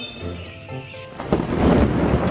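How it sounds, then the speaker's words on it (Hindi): A thunder and rain sound effect opens with a chiming tinkle, then a heavy thunder crash breaks in and rolls into a dense, steady rush of rain, loud and close. "अचानक आसमान पे जोर से बिजली चमकी और फौरन बारिश यानी रेन शुरू हो गई।"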